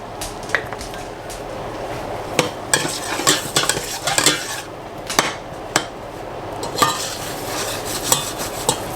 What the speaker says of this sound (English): To our butter, we're going to add Creole seasoning, garlic powder, chopped onions,